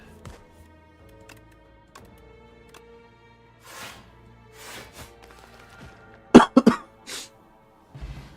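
A person coughs in a tight burst of several hacks late in the clip. Before that comes quieter room sound with faint taps, and no one talks.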